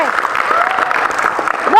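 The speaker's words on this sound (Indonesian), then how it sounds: "Oke, terima kasih, tepuk tangan" Applause from a class during a pencak silat physical education lesson, a short even patter of many hands close by, with voices speaking over it.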